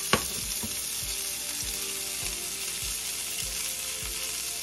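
Fiddlehead ferns sautéing in a pan give off a steady, close sizzle, with soft periodic knocks as they are stirred roughly every second.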